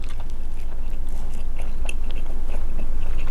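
Someone bites into and chews crispy Isaan sausage right at the microphone, with steady loud mouth noise and small crunchy clicks throughout and no talk.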